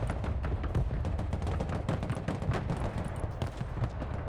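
Dense rapid gunfire in the video game Broken Arrow, a steady crackle of overlapping rifle and machine-gun shots with thumping impacts, loud and continuous throughout a busy battle.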